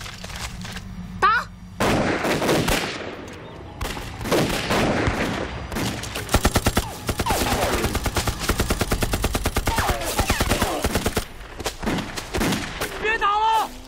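Heavy gunfire rattles through a battle scene in a Chinese war drama. Bursts of machine-gun and rifle fire crackle loud and close, with shouted voices and booms between volleys and a rapid sustained stretch of shots in the middle.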